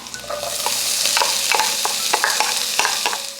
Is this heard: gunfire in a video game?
no